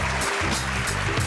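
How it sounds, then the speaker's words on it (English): Audience applause at a live Arabic poetry performance on a talk show: a steady, dense wash of clapping held at even loudness for the whole moment, close and full, with no voices standing out. "Another round of applause."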